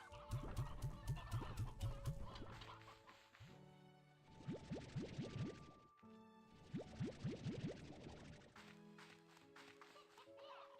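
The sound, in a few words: chickens clucking in a video game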